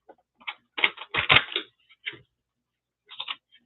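Quick crisp riffling bursts of tarot cards being shuffled, a flurry of snaps in the middle followed by a short pause and a final brief riffle.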